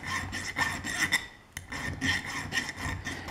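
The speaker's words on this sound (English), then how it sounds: "we're just going to take the file and go ahead and shape this" A metal hand file rasps across the curve of a ring being shaped, in steady back-and-forth strokes with a brief pause midway, close and fairly loud.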